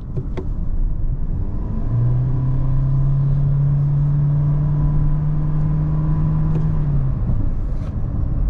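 A 2023 Toyota Prius hybrid (JDM) accelerates under power, giving a steady, loud low rumble and a rising electric-motor whine that holds through most of the stretch before easing off.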